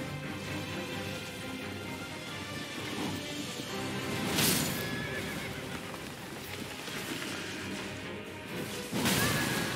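A horse in the game Elden Ring whinnies loudly twice, around the middle and again near the end, amid clip-clopping hooves, swooshes and crashing game sounds.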